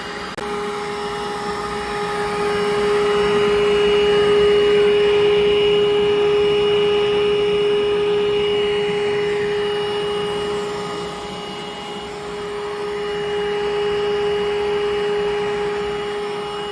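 A carpet cleaning machine scrubs the cargo area of a 1997 Tahoe, giving a loud, continuous motor drone with a steady whine that swells and eases slightly over time, with no talking.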